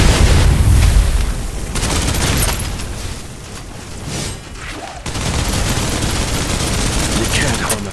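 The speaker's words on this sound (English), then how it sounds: "Suppressive fire" Suppressive gunfire in Snowbreak Containment Zone: loud, continuous rapid automatic fire with booming impacts, pausing briefly before resuming, while a voice talks over it.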